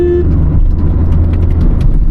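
A car pulls in third gear, its engine a steady low drone with a brief higher whine at the start, loud and close throughout.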